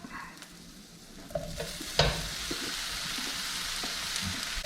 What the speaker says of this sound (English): The Beyond Beef has browned for 5 minutes. I'm now going to add the eggplant.